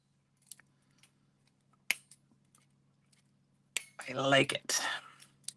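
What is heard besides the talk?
cutting out paper card for crafting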